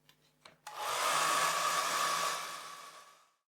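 A hair dryer switches on and blows steadily for a few seconds over wet watercolour paint, loud and close with a whining motor hum, then winds down, preceded by a couple of small handling knocks.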